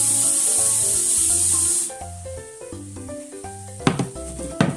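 Water pours into a pot of soft, leftover plums from last year's plum syrup, a bright hissing splash for about two seconds that then stops, with gentle music playing underneath.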